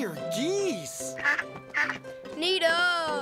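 Children voice an imitation of honking geese, giving a series of close, playful nasal honks that rise and fall over about three seconds in a cartoon setting.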